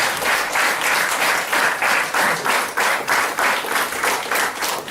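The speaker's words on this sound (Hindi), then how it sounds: "एक बार डॉक्टर सवेरा सर को जोरदार ताली" An audience at a health talk gives a doctor a hearty round of applause, close and loud with continuous dense clapping throughout.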